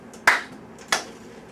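A child claps three evenly spaced quarter notes in a classroom music lesson, each a sharp, close, isolated slap with quiet gaps between them.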